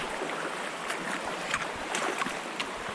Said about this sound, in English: Now we're crossing the river.